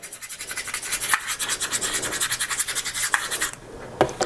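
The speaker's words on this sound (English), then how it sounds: "grab this key, get this a little bit closer, and scratch up the back just a little bit" A metal key rasps across the back of an HTC One M8 phone in a rapid series of close, rough scratching strokes, pausing briefly near the end before one last scrape.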